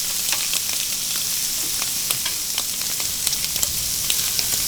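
Lemons sizzle on a hot grill, a constant close frying hiss dotted with small pops and crackles, with no voices.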